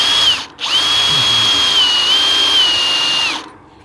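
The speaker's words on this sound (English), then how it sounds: "This helps to drill through thick steel." A power drill bores through thick steel plate with a steady, loud high-pitched whine that briefly dips and restarts near the start, then runs continuously before spinning down, close and alone without talk.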